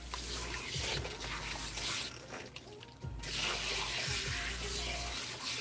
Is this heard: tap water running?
yes